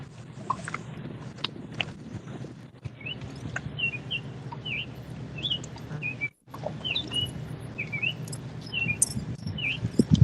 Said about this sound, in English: I don't know where that bird is, but it's loud